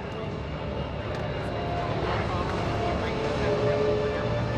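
A P-51 Mustang fighter in European theater markings flies past at a military base open house airshow, its piston engine a steady, broad roaring drone that swells slightly toward the end, with a faint voice underneath.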